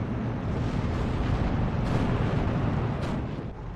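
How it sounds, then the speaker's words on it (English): Explosions and artillery rumble through a big tank battle in Steel Division 2, a continuous heavy, rolling wash of blasts at steady loudness with sharper cracks poking through, no voices. "Big old tank battle."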